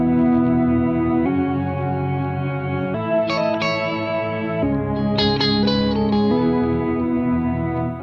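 A guitar plays sustained chords through a Strymon NightSky reverb pedal with trails on, so each chord swells into a long shimmering wash, with higher bright notes ringing over it, and no voices.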